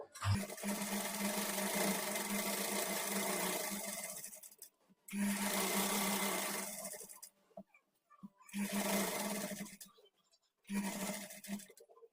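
A sewing machine stitches the edge of a kurti in three long runs and one short one, each stopping cleanly between. The motor hum is steady and fairly close, with no talk over it.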